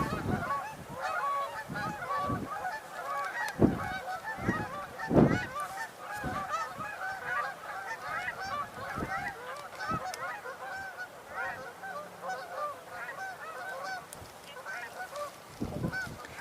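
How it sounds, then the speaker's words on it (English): A flock of Canada geese flies overhead, honking repeatedly in an irregular, overlapping chorus at moderate distance, with a few louder calls rising above the steady outdoor background. "Canada geese flying over."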